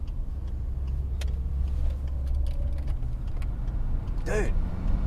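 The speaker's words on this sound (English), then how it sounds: "It's just a fan." The cooling fan of a parked Australian ute runs with a steady, low, droning whir throughout. A brief voice cuts in near the end.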